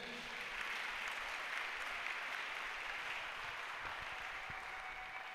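A church congregation claps and cheers together during a sermon, a dense steady wash of applause heard at a distance, with scattered voices and a faint tone sustained underneath.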